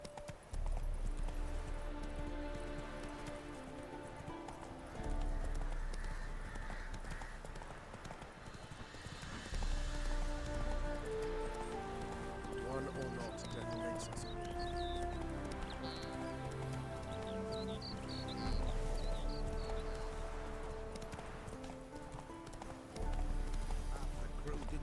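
Roach the horse trotting and galloping in the Witcher 3 video game, a steady rhythmic clip-clop of hooves running throughout against game ambience, with someone talking over it at times.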